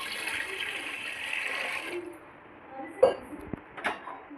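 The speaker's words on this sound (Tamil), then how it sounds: "பாத்திரத்தை எடுத்துக்கிட்டோம், 1/2 லிட்டர் தண்ணி ஊற்றிட்டோம்." Half a litre of water runs and pours steadily into a metal pot for a couple of seconds, then stops, followed by a few light clinks and knocks of the pot.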